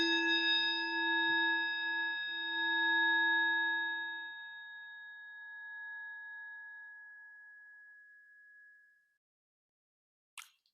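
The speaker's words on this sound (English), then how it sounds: "follow the sound of the bell" A single bell struck once in a quiet room, its clear ringing tone with bright overtones decaying slowly over several seconds into silence, followed by a faint brief knock near the end.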